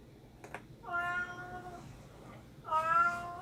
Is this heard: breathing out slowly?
no